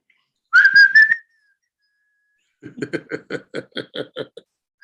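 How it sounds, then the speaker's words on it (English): A person whistles a short rising-and-falling call, then after a pause a rapid series of breathy, pulsing notes, close and alone. "there was this whistling we used to do when we were young"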